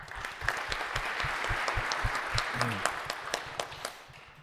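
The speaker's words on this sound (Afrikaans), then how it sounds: "Kom ons gee sommer vir die mense almal 'n lekker hande klap." Church congregation applauding during a Sunday service at an NG Kerk in Vredendal, a steady crackle of many hands clapping throughout, fairly close and sustained, with a brief voice murmuring midway.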